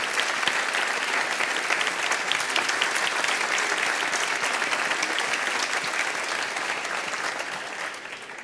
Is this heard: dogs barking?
no